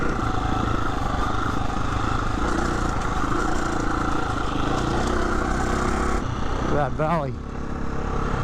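A Husqvarna motorcycle engine drones steadily while riding a chilly mountain road, with a rider talking over it and a brief drop in engine note near the end.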